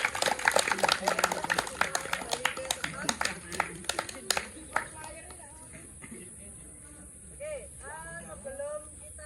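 A group of people claps in applause, a burst of sharp, uneven hand claps that fades after a few seconds, followed by talking and a quieter, higher voice.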